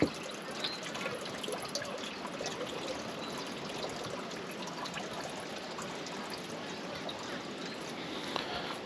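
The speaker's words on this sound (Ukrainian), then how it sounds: "трошки злив води, не всю." Water drains from a can of corn, trickling and pouring steadily in a thin stream for several seconds, close by and fairly quiet.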